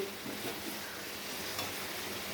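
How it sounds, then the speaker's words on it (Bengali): Mutton is stir-fried slowly in a pan, giving a constant broadband sizzle with soft stirring scrapes, close and steady throughout, with no voices. "মটনটা একটু না কষা হলে ভালো লাগে না। তাই স্লো মোশনে কষানো হচ্ছে"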